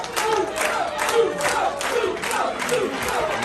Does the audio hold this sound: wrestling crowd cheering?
yes